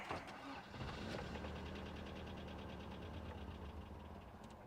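A cheap used Toyota truck engine runs steadily after the fuel pump is jumped with 18 volts, a rough mid-pitched idle with faint knocking, continuous and close for the whole stretch.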